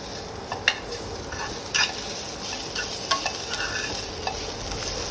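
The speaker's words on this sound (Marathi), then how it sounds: "आता हे आपल्याला 5 ते 6 मिनटं व्यवस्थित खरपूस कांदा लाल होईपर्यंत भाजून घ्यायचा आहे।" Chopped onions fry in a pan for misal while a spoon stirs them, giving a steady bright sizzle broken by several sharp scraping clinks, close and clear with no voices.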